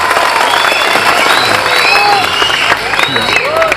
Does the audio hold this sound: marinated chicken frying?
no